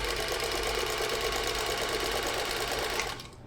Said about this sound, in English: So we're just going to sew 1/4 inch.